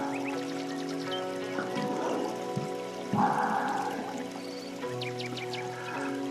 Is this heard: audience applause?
no